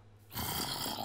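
A single low, rasping zombie groan from a Minecraft-style game, close and brief, rising abruptly and trailing off after about a second.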